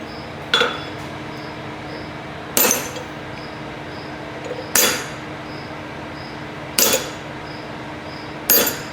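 A steel punch struck into a forged hammer head to stamp a maker's touch mark, five sharp ringing metallic blows spaced about two seconds apart, each with a short bright decay, close and loud over a quiet shop hum.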